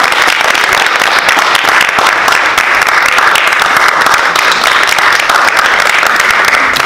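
Loud, sustained applause from a large crowd at a third-grade school performance, dense clapping filling the whole stretch without a break.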